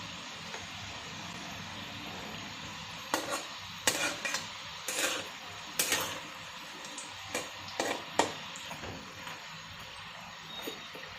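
Chakli-dough snack sticks fry in hot oil with a faint, constant hiss, broken by several sharp scraping and clinking bursts as they are stirred in the pan.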